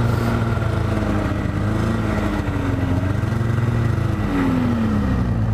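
A snowmobile engine drones loudly and continuously while drifting on grass, its pitch rising and falling with throttle changes, with no talk over it.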